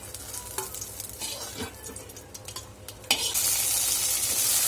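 Okra fries in a pan over low to medium heat while being stirred, with scraping spatula strokes and light clinks over a soft sizzle that swells into a loud, steady hiss near the end.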